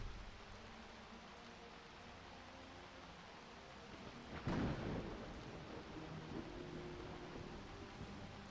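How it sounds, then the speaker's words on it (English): Continuous rain in the video game Skyrim with a sudden crack of thunder midway that rolls off into a low rumble, the downpour steady throughout. "Is it still raining? It's still raining."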